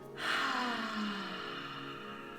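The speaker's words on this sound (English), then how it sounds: "Inhale through your nose. Exhale out through your mouth." A slow yoga breath sounds alone: a broad, airy nasal inhale swells in, then eases into a long, softening mouth exhale, near and quiet in a calm restorative class.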